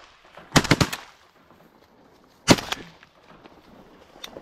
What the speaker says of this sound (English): Shoot him right out front. Shoot him. It's a greenhead. Shoot him.